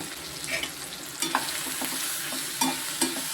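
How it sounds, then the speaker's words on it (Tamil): Tomato and onion sauté in a pan for a dry fish kootu, giving a close sizzle with several brisk stirring scrapes and clinks, and no talking. "தக்காளி வெங்காயம் இந்த அளவுக்கு வதங்கிக்கிட்டு இருக்குது"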